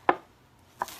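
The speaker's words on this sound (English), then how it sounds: "I'm doing like grid style chopping." A knife chops food on a cutting board in a grid pattern, two sharp, close knocks about three-quarters of a second apart with silence between them.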